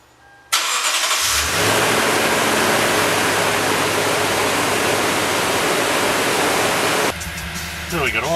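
A 2007-2014 Toyota Tundra engine starts up and settles into a steady, loud idle for its warm-up after an oil change, a broad continuous rumble that drops away near the end.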